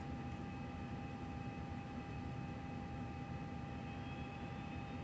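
An Airbus A330 engine in X-Plane 12 spools up at startup, giving a faint, steady whine with a soft rumbling hiss that stays level and distant throughout.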